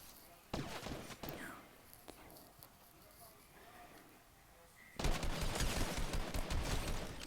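Gunfire in a French battle-royale video game match: a few scattered sharp shots early on, then from about five seconds a dense, loud burst of rapid fire and impacts, with no talking over it.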